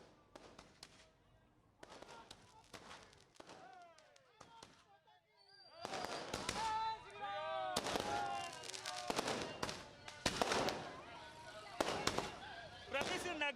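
Celebratory fireworks at a minister's residence for the Ram temple foundation, sharp irregular cracks and bangs scattered throughout, some in quick clusters, mixed with whistling rockets and crowd voices and talk.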